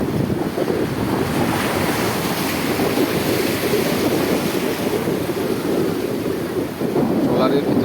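Sea waves and strong wind roar around a slow-moving trawler in the Digha estuary, a continuous loud wash with wind buffeting the microphone throughout.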